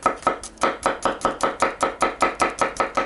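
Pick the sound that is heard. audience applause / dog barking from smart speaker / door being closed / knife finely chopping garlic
knife finely chopping garlic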